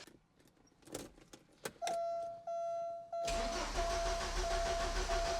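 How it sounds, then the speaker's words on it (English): A Porsche 944 race car engine is started after key and mechanical clicks, with a starter whine cranking in several pulses before the four-cylinder engine catches and settles into a steady, loud idle close by. "Hopefully we can get this thing fired and get it running on 4 cylinders."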